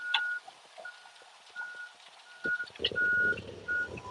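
A concrete truck repeatedly sounds loud intermittent reversing beeps as it moves back and forth during a pour, with engine rumble and clattering rising near the end.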